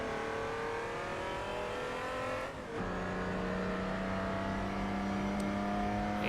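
A BMW race car engine in a postwar-era racing video game revs steadily and loud, its harmonic tone dipping briefly near the middle before settling into a sustained, smooth drone.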